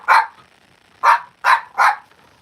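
A dog barks four times in sharp, close bursts: one bark, a pause of nearly a second, then three quick barks in a row, with no talking.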